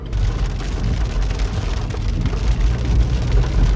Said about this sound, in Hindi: और धूप के साथ बारिश आ रही है यार, क्या हो गया मौसम में।